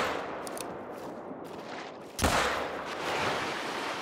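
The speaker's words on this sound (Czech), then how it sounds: "ta poslední rána ho kamaráde skolila" A single loud shot from the Rhino pistol in theHunter: Call of the Wild, a sharp close crack followed by a decaying outdoor echo over faint ambient background.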